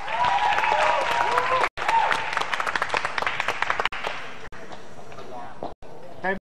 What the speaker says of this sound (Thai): ถ้าพร้อมแล้วขอเสียงปรบมือให้ทั้ง4คนด้วยครับ